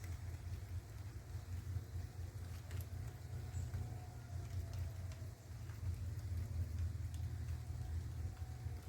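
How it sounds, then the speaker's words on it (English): Rain falling outdoors in a backyard, a steady, continuous hiss with a low rumbling undertone throughout and no voices. "It's raining outside."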